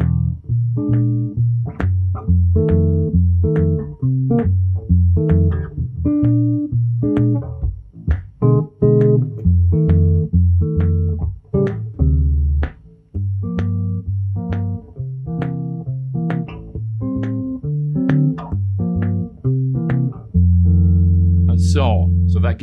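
Jazz-blues chords strummed in a steady, swinging rhythm, each chord struck crisply and ringing briefly, with no voice over the playing.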